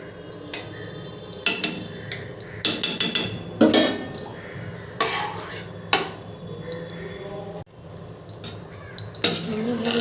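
A metal spoon stirs ghee into a pot of khichuri, giving irregular clinks and scrapes against the pot, some sharp and close, with quiet gaps between strokes.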